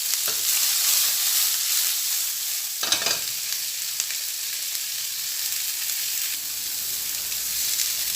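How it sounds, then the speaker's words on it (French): Endives frying in a pan with a little butter give a steady, close sizzle throughout, with a brief stirring scrape near the middle and no voices. "On va les faire frire à quelques minutes."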